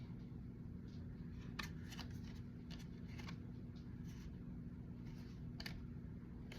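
Tarot cards being shuffled again and again, a faint, steady run of soft papery riffles and light slaps over a low constant hum, with no voice.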